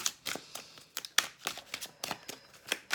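Tarot cards are shuffled by hand in quick, papery riffles and taps, a rapid irregular run of soft slaps and flutters close by.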